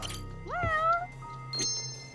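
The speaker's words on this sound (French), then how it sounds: "Il est là le chat!" A cat gives a clear, drawn-out meow with rising then gliding pitch, followed by a shorter second call, over a low steady background hum.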